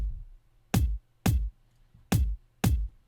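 Four punchy layered kick drum hits in a Drum & Bass production, two samples stacked to combine a full low end with a bright, clicky top, struck in two evenly spaced pairs, loud and dry with no other sound.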